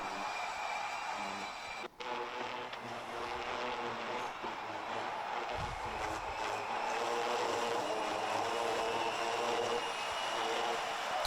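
A steady, high electric whine of Rotax Project E20 electric racing karts in a race final at Wackersdorf fills the clip, holding constant with a brief dip and swelling slightly as they pass.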